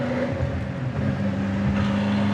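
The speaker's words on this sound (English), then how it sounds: "Here the secondaries open up on the 4-barrel." A 1958 Chevrolet Impala engine with a 4-barrel carburetor roars under load as the secondaries open, a loud, steady low rumble with a rising tone, heard close and without talk.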